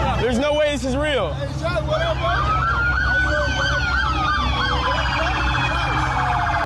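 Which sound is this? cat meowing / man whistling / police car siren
police car siren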